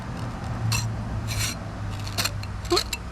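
A hand rubbing along the rough skin of a sharpnose shark during cleaning, several short dry rasping strokes close up, like sandpaper, in separate bursts with a low steady hum beneath.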